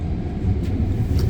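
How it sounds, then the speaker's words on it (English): Low, steady rumble of a moving train heard from inside a carriage, continuous and fairly loud with no talking. "We're on the train."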